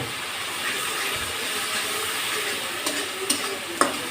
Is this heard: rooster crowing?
no